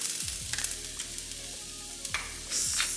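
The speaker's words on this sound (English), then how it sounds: "water's boiling, so I'm gonna go ahead and add some oil in that one" Oil poured into a pot of boiling pasta water sets off a loud bubbling sizzle with a few sharp crackles, close and steady, with a swell of hissing near the end and no voices.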